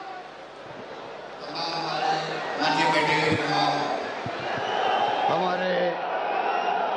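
Crowd of Rajasthan party cadres at a political rally in Jammu, cheering with raised hands, a broad murmur and shouts rising under a loud public-address speech.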